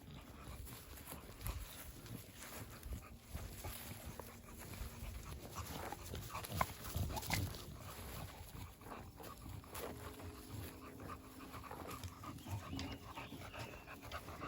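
Steady, breathy dog panting continues close by, with faint outdoor background noise and scattered rustling throughout.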